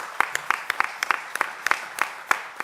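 Scattered clapping from a small audience at a scientific and social conference session, about a dozen distinct, fairly sharp claps spaced irregularly rather than a dense ovation.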